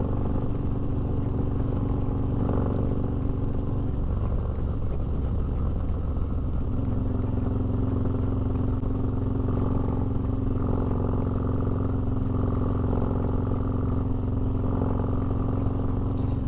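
A freshly built stage 4 motorcycle engine runs steadily at low RPM, a loud, continuous rumbling idle with slight rhythmic variation throughout and no talking.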